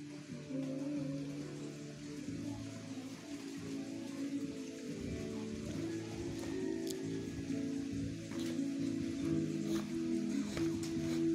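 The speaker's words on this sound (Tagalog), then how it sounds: "Ulan na naman." Steady rain falling and pattering on surfaces, a continuous wash of drops with a low rumble of water underneath, no voices.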